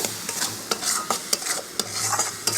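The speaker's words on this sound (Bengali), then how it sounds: "এবার এগুলোকে একটু ভালো করে নেড়ে চেড়ে নিয়ে" Cabbage with chili powder being stirred in a frying pan, a spoon scraping in quick, irregular strokes over a steady close sizzle.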